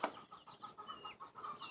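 A rooster on a farm gives soft, repeated clucks in a quick, irregular rhythm, quiet and fairly close, with no talking.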